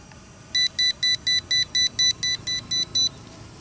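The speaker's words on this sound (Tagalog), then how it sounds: "And then, nagwa-warning siya." Eleven evenly spaced electronic beeps from an M108 Plus budget beginner drone, sounding as a warning as it nears a tree outdoors, each short, bright and clipped, at a steady rhythm over faint background noise.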